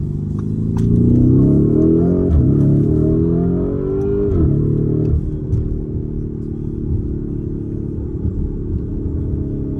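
A Lamborghini Urus twin-turbo V8 cruises slowly through a neighbourhood, its loud, close engine rumbling and rising in pitch as it accelerates, then dropping back after a shift before settling into a steady drone.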